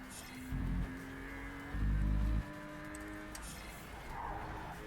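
A Porsche Cayman's engine growls in two short, deep bursts, then settles into a softer hum with a faint tire squeal, no talking, in the racing video game Project CARS 3.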